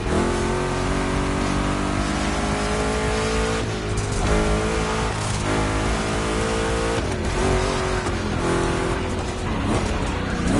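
Race car engines roar continuously in The Crew Motorfest, a dense, loud wall of revving with shifting pitch and occasional tire noise, no talking.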